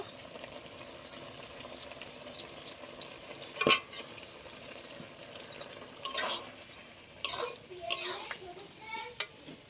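Ground mustard and poppy seed paste goes into a pan of ridge gourd with salt and turmeric, frying under a low sizzle while a utensil stirs and scrapes in several sharp bursts.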